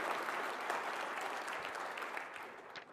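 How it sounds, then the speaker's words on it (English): An audience applauds at a mayor's State of the City address in Bettendorf, producing dense, sustained clapping that fills the room at an even level for a few seconds before it begins to thin out. "Give them a round of applause."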